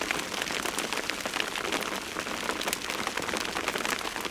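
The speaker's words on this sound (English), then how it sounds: "this is more hail than snow actually, looking at what is landing on my" Hail pellets patter steadily onto a tripod cover and an outdoor table during a snowy spell at Amsterdam Schiphol Airport, a dense continuous rattle of small impacts close by with no voices.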